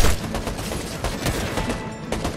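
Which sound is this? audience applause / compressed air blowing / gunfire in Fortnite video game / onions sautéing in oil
gunfire in Fortnite video game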